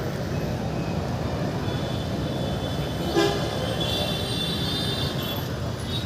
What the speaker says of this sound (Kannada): ಹಾರನ್ ಕೇಳಿಸ್ಕೊಳ್ಳಿ, ರಾಂಗ್ ವೇ ಬರ್ತಾ ಇರೋದು ಅವನು.